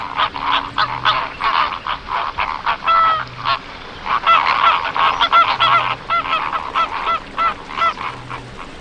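A flock of flamingos flies over salt flats, giving repeated goose-like honking calls that overlap in uneven bursts, fairly loud and clear throughout.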